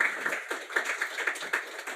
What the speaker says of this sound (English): thanks for the clapping